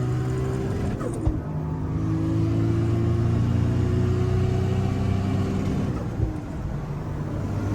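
A roughly 1000-horsepower Toyota Supra MK4 engine pulls hard at high speed, a loud sustained roar with rising harmonic tones, a brief gear change near the start and another near the end, no talking.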